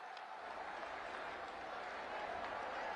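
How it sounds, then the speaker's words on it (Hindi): Distant, fairly faint applause from a large crowd at a rally marking the Prime Minister's visit to Siddharthnagar, Uttar Pradesh, for the opening of new medical colleges; a steady wash of clapping that swells slightly toward the end. "मैं चाहती हूं जोरदार तालियों के प्रणाम आप माननीय प्रधानमंत्री तक पहुंचाएं।"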